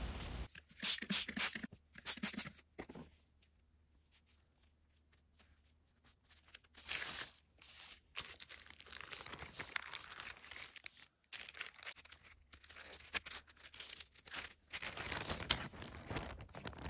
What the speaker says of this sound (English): fold it and keep it inside the Ziploc and close it.